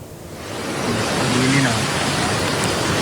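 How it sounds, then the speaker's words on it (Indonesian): Heavy rain pours during flash flooding in Balangan Regency, South Kalimantan, a dense, hissing wash of noise that swells slightly after the first half-second and then stays loud and unbroken. "Hujan deras yang mengguyur Kabupaten Balangan dan sekitarnya sejak Jumat memicu banjir bandang."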